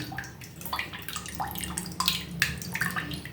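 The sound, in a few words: straining tamarind water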